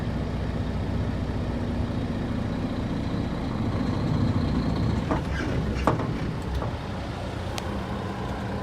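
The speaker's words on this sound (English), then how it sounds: "we are gonna put it in gear and we are gonna attempt to move it" A heavy air-brake truck engine rumbles steadily at close range, in gear against the parking brake during a brake test, with a few sharp mechanical clunks and creaks partway through as it strains without rolling.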